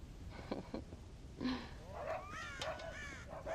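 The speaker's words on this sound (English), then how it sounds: "God damn crows!" Crows caw in Red Dead Redemption, several harsh calls overlapping and repeating in quick succession, fairly near, over a low background.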